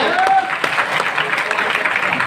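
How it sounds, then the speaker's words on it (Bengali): A meeting audience at a party centre in Ashulia, Savar applauds together, a steady dense wash of clapping holding at even loudness throughout with no pauses. "জোরে একটা হাততালি চাই।"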